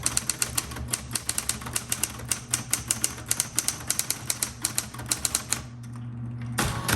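A 1960s Smith Corona Coronet Automatic 12 typewriter clacks in a quick, steady stream of close keystrokes that stop near the end, followed by a short mechanical rattle.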